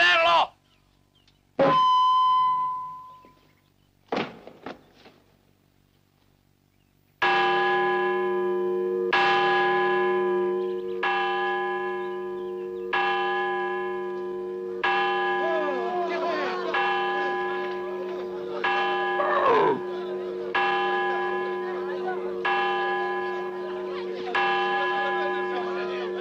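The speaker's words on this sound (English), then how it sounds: "This bell is ringing for you, Colonel Huerta." A church bell tolls in slow, regular strokes, each loud ringing hit with a long resonant hum decaying before the next, after a few scattered sharp sounds and shouting at the start.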